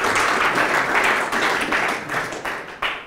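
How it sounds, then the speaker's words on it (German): At an open-source software awards ceremony, a crowd gives short, full applause for an award recipient. The clapping is dense and even, then tapers off with a few last claps near the end. "Auch hier kurz Applaus."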